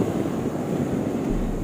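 Strong wind blows across an open outdoor stretch during a kilometre-long string telephone attempt, a steady broadband rush and buffet against the microphone with no voices.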